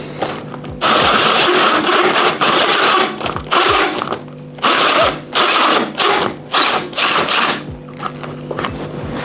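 A power drill bores into a Fluval aquarium, loud and close, its whine coming in repeated bursts with short pauses between them as the bit works through the material.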